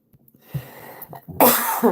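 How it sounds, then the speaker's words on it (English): A few quiet breaths and small throat sounds lead into a harsh, close cough burst near the end. "can't make me laugh, bro. It makes me cough."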